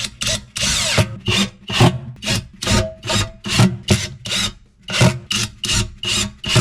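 A screw is driven into a loosened sink cabinet hinge in wood, giving a steady series of about a dozen close, rasping scrapes in even rhythm with short gaps between them, and no voices.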